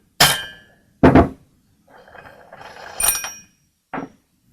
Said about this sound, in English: Now I can take a hammer and strike the screwdriver